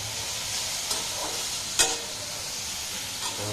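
Bottle gourd greens stirred in a pan on a home stove, a steady soft sizzle of frying with a few brief clatters of a spoon against the pan, close and fairly quiet, no voices.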